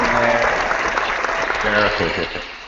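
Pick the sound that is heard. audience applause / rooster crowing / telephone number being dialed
audience applause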